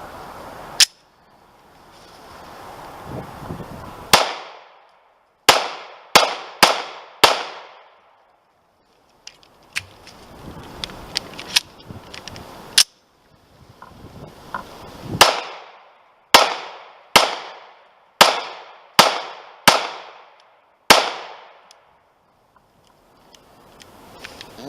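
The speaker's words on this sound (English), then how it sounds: "When you point a cocked pistol and you pull the trigger with the intent of it discharging, it's supposed to go bang" A Beretta R51 pistol loaded with Remington ammunition fires sharp, loud gunshots, singly and in quick bursts of two to four, with pauses between strings and faint rustling in the gaps.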